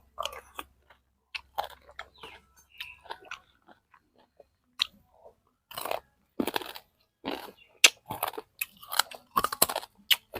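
Close-up chewing of crispy pork crackling with a hard edge, loud irregular crunches and bites that grow denser toward the end, alone between quiet gaps, eaten alongside snail papaya salad.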